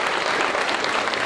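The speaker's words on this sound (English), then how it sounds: "Let's give him a big round of applause." Steady, dense applause from an audience welcoming a senator at a city news conference, filling the whole short stretch at an even, fairly loud level with no speech over it.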